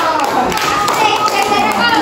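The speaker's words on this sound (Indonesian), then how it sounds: "Ya, tepuk tangan." A class of children clapping their hands together, a dense, steady burst of applause lasting about two seconds at close range.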